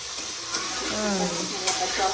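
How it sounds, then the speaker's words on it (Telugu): Okra pieces and chilli sizzle and fry in a pan while being stirred, a steady close hiss with scraping stir noises and a couple of sharper clinks. "మిరపకాయ వేసి అప్పుడు బెండకాయ ముక్కలు పడతాం"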